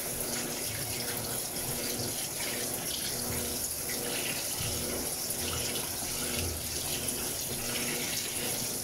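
Electrolux top-loading washing machine filling with water at the start of a heavy cycle, a steady, even rush of water pouring into the drum, close and continuous with no talking.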